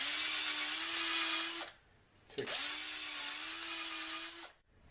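Two bursts from a drill spinning a roughened metal shaft used as a reamer to widen holes, each a steady high whir lasting about two seconds, separated by a short pause, close and loud.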